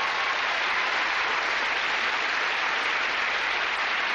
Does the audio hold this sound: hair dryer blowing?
no